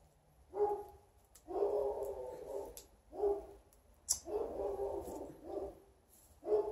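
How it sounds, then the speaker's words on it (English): Dogs bark repeatedly in short bursts, a few clustered barks at a time, fairly close and loud against a quiet background. "Of course, the dogs have to be barking."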